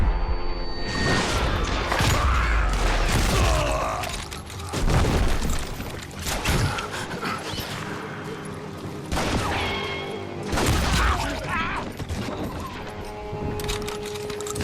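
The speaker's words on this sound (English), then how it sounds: "They're shooting in the street!" Gunfire rings out in the street in the video game Call of Juarez: Gunslinger, heavy booming shots, including a shotgun, come in irregular bursts with sharp cracks and crashes, loud and close across the whole stretch.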